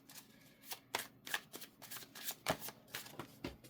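Tarot cards are shuffled by hand in a quick run of crisp riffling bursts, close and fairly quiet, with short pauses between them.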